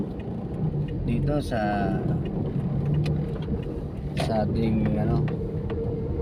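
A jeep drives along with a steady engine rumble and road noise throughout, while someone talks over it in the foreground.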